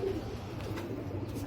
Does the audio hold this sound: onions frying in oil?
no